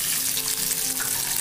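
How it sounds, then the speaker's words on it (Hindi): Onions sauté in oil in a kadai, a brief, even sizzle close up with no talking. "इसमें मैं वापस ऑयल डालूंगी और इसके अंदर हम हमारा अनियन जो हमने इस तरह से बड़ा कट कर लिया था इसे सोते कर लेंगे।"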